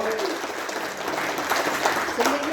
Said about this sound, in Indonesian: Sekali lagi kita kasih tepuk tangan dulu untuk beliau.